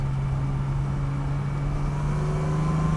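Datsun 280Z hot rod engine running close and loud, a steady, even low drone with no sharp rise or fall in pitch.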